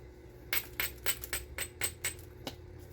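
Sharp clicking taps of stone on stone while a novaculite core is worked for flakes, about eight separate strikes in an uneven rhythm, close and clear over a low room hum.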